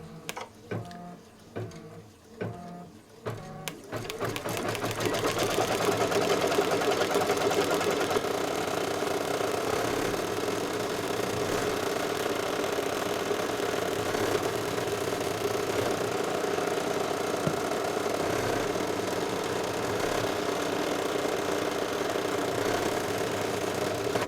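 An embroidery machine stitching an oven mitt potholder starts with a few separate mechanical clacks, then settles into a steady, fast, continuous whirring hum that runs on evenly without anyone talking.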